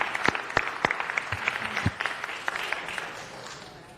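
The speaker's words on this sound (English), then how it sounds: "Let's give her a better applause." Audience applause at a Los Angeles city council meeting, a steady patter of clapping hands from a modest crowd in a large chamber, with a few sharper claps standing out as it gradually tapers off.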